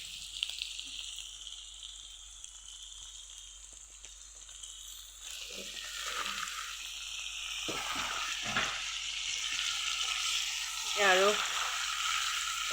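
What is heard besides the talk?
pork and taro frying in a pan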